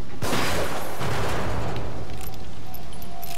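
Gunfire from a shooter in The Evil Within horror video game: a sharp loud blast near the start, then a second report about a second later, with reverberant debris and rumble trailing off.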